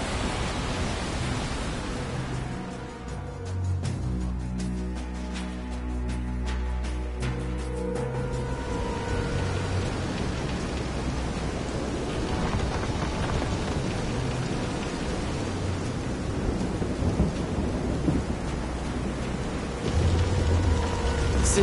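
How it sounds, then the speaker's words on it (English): Steady rain and storm wash from a thunderstorm in the Visions of Mana video game, aboard a pitching boat at sea, a continuous loud broadband hiss with low rumbling swells underneath and no speech. "This is some storm."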